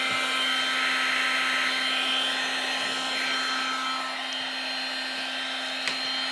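A heat gun warms a part during a Telecaster guitar build, giving a steady, close, even blowing whoosh with a constant motor hum, running alone with no talk.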